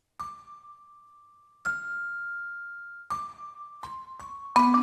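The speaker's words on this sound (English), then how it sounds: "And we have the celeste and the vibraphone going on." Sampled celeste and vibraphone tones, dampened so they don't ring on, play a sparse pizzicato-style line: a few clean, sustained bell-like notes struck one at a time, building to a brighter cluster at the end.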